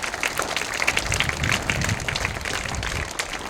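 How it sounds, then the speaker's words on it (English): A crowd claps steadily throughout, a dense, continuous patter of many hands at moderate distance. "Give her a big round of applause."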